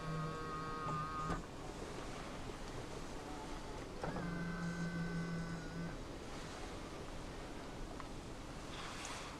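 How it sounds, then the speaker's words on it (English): A steady electric motor whir from the power folding side mirrors of a 2015 Kia Picanto runs for about a second, pauses, then whirs again for nearly two seconds over a low background hiss. "This car does have power folding side mirrors."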